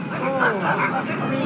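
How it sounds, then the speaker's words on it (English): Sled dogs at the start of a dog sled race in Anchorage yip, whimper and bark excitedly in a dense chorus, with voices talking over them throughout. "dog sled teams set out from Anchorage each year to commemorate the gold rush"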